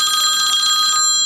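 A telephone rings with a bright electronic trill, one close burst lasting about a second before cutting off, with no voices.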